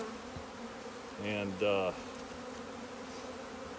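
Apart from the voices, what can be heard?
queen bee and worker bees buzzing in queen cage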